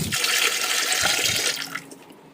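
Water mixed with rice starch water poured into an iron kadai being seasoned, a steady close rushing splash for about a second and a half that tapers off into trickles.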